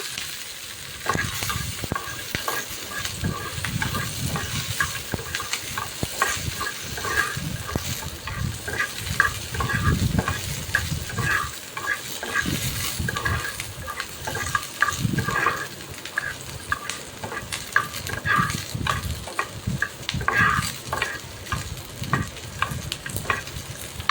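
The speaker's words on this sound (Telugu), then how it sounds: "ఇప్పుడు అదే ప్యాన్లో పచ్చిమిర్చి అయితే తీసుకొని ఫ్రై చేసుకోవాలి" Green chillies fry in a pan with a steady crackling sizzle, punctuated by repeated rhythmic stirring scrapes and clinks throughout, close and fairly loud.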